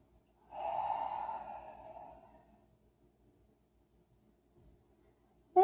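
One slow deep exhale during a calming yoga session, a soft close airy breath that fades gradually into near silence, with a brief sound at the very end.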